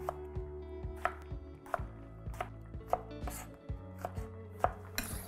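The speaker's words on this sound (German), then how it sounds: "Weiter schneiden die Aubergine." A knife chops through an aubergine on a cutting board, giving a steady series of crisp, close thuds with short gaps between them, with no talk over it.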